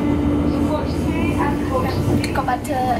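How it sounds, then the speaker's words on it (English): Interior of a moving train bound for Milton Keynes from London Euston, a loud steady rumble and hum with faint squeals, with some people talking under it. "we're on a train now and it's really quite loud"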